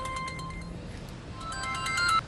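A mobile phone ringtone plays quietly in an indoor scene, a faint, high melodic tone pattern lasting a couple of seconds with no one talking over it.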